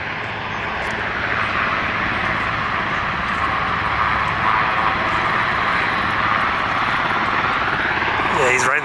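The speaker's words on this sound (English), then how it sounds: "I'm sitting here focusing on the other helicopter, missing the fact that this one is gonna come right up over us." A helicopter flies low overhead near trees, a loud steady rotor and engine roar that keeps building and stays close throughout.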